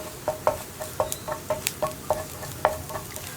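Garlic sautéing in butter in a pan gives a soft, quiet sizzle, broken by a dozen or so light scraping and tapping strokes as it is stirred at an uneven pace.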